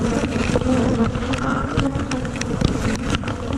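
Honeybees swarm thickly around a crowded, outgrown hive, a dense close buzzing drone that stays loud and continuous, with individual bees whizzing past now and then.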